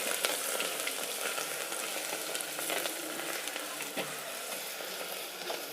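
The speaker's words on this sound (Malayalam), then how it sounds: "അതിൻ്റെ കൂടെ ഇഞ്ചി വെളുത്തുള്ളി പേസ്റ്റ് ഒരു 50 ഗ്രാം. ചെറുതായിട്ട് ഇളക്കി കൊടുക്കാം." Ginger garlic paste frying in a pan, a continuous soft sizzle with faint occasional stirring scrapes, fairly quiet and steady throughout.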